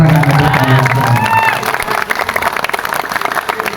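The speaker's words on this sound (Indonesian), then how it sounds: "Tepuk tangan untuk kalian." Clapping and cheering crowd at a humorous religious lecture, at first mixed with a voice and tonal sounds, then settling into a busy patter of applause from many hands.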